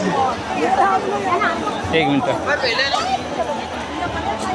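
Dense, steady crowd babble from a huge gathering of devotees at the ISKCON Mira Road Jagannath Rath Yatra, with nearby voices calling out over the general hubbub.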